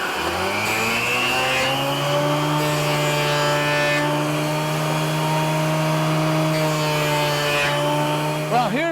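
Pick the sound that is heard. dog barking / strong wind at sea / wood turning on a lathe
wood turning on a lathe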